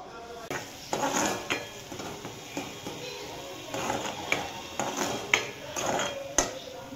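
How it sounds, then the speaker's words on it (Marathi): Chopped onion dropped into hot oil and frying for a chicken curry, with clinks and scrapes of a spoon against the pan over a steady sizzle, close and fairly loud, no talk. "आता आपण कांदा बारीक केलेला त्याच्यात टाकूयात"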